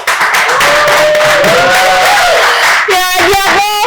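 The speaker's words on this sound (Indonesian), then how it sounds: "minta tepuk tangan dulu dong buat semuanya" A talk-show audience claps and cheers loudly while a voice shouts and music plays over the crowd noise.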